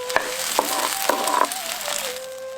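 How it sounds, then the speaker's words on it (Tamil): Chopped small shallots, about 150 grams, sauté in two or three spoonfuls of hot oil in a pan, a close, soft sizzle broken by a few sharp crackles and scraping stirs. "2 அல்லது 3 தேக்கரண்டி எண்ணெயில நறுக்கி வச்சிருந்த 150 கிராம் சின்ன வெங்காயத்தை சேர்த்து நல்லா வதக்க ஆரம்பிச்சிருவோம்"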